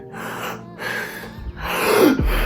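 A voice imitates heavy breathing with loud, close, rhythmic gasping inhales and exhales, three or four deep breaths in quick succession.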